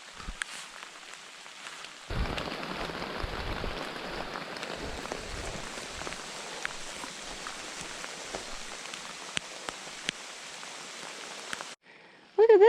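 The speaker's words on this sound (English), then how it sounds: "I hope this rain doesn't last very long." Steady rain falls in the forest on a backpacking trail, a dense hiss with scattered louder drips, close and constant after a quieter start. It cuts off abruptly near the end.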